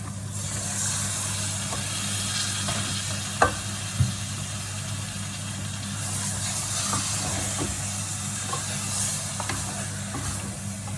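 Chicken frying in a pot for biryani gives a steady, close sizzle that holds throughout, with a couple of sharp knocks of stirring against the pot a few seconds in.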